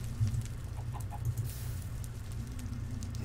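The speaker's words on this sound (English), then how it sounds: "There's a chicken in here!" Chicken clucking inside a Minecraft-style game's Nether, a few short clucks standing out over a steady low crackling fire-like rumble, with no talk.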